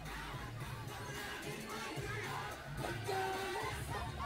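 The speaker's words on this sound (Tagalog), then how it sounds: "Grabe sigawan!" A large outdoor crowd at a surprise SB19 flash mob in BGC screams and cheers steadily throughout. The mass of voices is loud and close, with a few shrill shouts rising above it.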